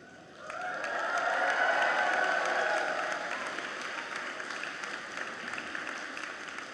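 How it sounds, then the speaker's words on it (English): A crowd at a BCIT graduation ceremony bursts into loud, sustained cheering and applause that swells quickly, then gradually eases while the clapping keeps going. "give a shout out to the people in this room who've supported you"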